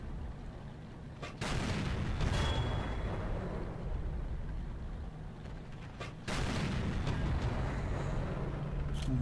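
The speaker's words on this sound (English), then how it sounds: "So let's see if we can get some shots in. I'm firing gold now" A Jagdtiger 8.8 cm Pak 43 tank destroyer in World of Tanks fires its gun, two heavy booming shots about four seconds apart over a steady rumble of battle ambience, with no talking.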